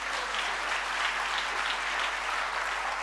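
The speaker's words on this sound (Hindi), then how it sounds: "तालियां होनी चाहिए या नहीं होनी चाहिए?" An audience at a motivational business talk applauds, a dense and even burst of clapping that holds steady for a few seconds with no voices over it.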